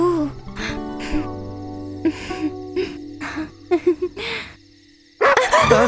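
A dog barks in a series of sharp, separate outbursts spaced irregularly, close and fairly loud, with a steady insect-like background tone and a louder burst at the end.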